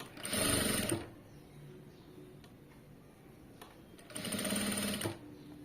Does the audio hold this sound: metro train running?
no